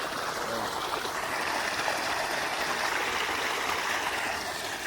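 Irrigation water pours directly into a farm field with a constant broad rushing flow, steady and fairly close, with no break or change across the clip.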